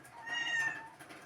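A domestic cat gives a single faint, drawn-out meow indoors, heard alone without talking.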